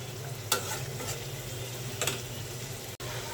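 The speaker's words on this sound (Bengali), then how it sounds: "এখন আমি ভালোভাবে কষিয়ে নেব।" Spices with chili powder and black pepper are sautéed in a pan for a Bangladeshi home-style lunch dish. A soft, steady sizzle runs throughout, broken by a few brief scraping stirs of the spatula.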